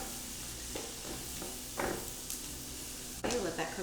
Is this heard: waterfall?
no